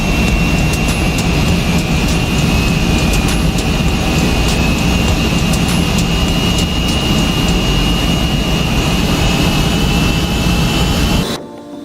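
An Embraer ERJ-145 regional jet in the X-Plane 11 flight simulator gives a steady, loud jet-engine roar with a constant high whine, unbroken until it cuts off abruptly at the end.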